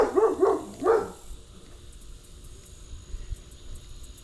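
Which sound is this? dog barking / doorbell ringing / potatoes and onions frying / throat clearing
dog barking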